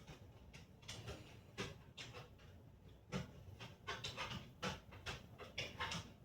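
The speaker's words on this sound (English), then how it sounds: "you can hear my dog in the back really struggling to get upstairs" A dog pants heavily and rhythmically while struggling to climb a staircase, quick breaths recurring in bursts at close range, with no talking.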